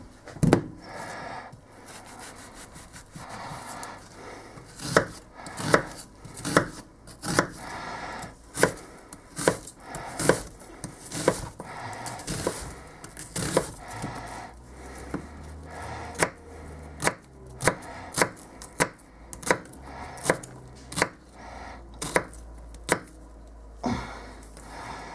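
A knife chops an onion on a cutting board in a steady run of crisp taps, repeated throughout at close range, with no talking.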